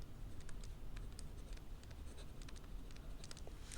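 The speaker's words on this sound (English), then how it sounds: "let me write over here" Close, quiet scratching of a pen writing by hand on paper, short strokes in an irregular run over a faint background hiss, with no talking.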